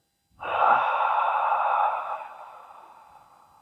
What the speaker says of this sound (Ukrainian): Спокійний вдих через ніс і смачний видих через рот.